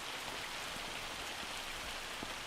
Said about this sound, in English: We got hail, then rain.